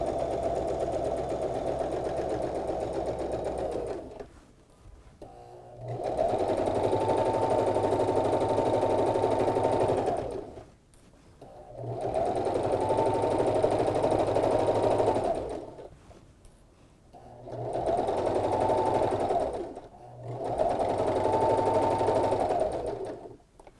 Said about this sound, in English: You might have to just help the elastic bit through the machine because it's extra thick.